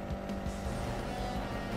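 A dense roar of car traffic in the video game Resident Evil 6 streams past continuously, with engines whooshing by and brief tire squeals over a steady loud road hum.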